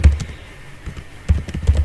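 Computer keyboard typing while data is entered during an SQL database lesson: close, crisp key clicks in uneven bursts with a short pause in the middle, and no talking.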